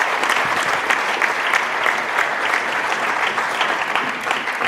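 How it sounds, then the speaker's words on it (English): A dense, even round of applause from the audience at a radio awards ceremony, many hands clapping loudly and continuously with a faint murmur of the crowd beneath. "I'd like to give a round of applause for those guys."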